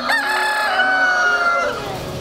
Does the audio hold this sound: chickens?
yes